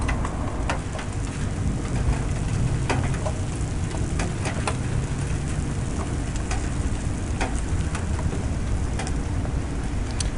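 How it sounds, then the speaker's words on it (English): Heavy rain falling steadily, large drops pattering and splatting on a hard surface in a dense, continuous wash of sound. "Big, fat, juicy raindrops"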